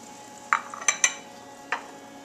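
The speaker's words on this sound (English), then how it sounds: "So mix around the butter and let it melt into the mixture" Butter is stirred into hot salted caramel off the stove: a few quiet scrapes and clinks of a utensil against the pot, spaced irregularly over a soft background hiss.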